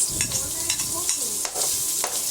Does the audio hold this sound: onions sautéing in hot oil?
yes